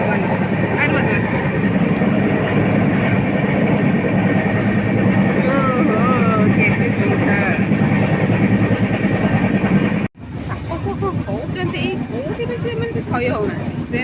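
Inside a passenger express train, a steady rumbling run fills the carriage while people chat nearby over the noise, which briefly cuts out before resuming.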